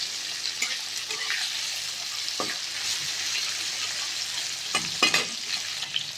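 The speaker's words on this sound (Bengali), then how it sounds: "এখন এটা একটু লাল করে ভাজবো" Elephant foot yam pieces fry in a pan with a steady, close hiss of oil, broken by a few louder scraping stirs near the middle and end; no one speaks.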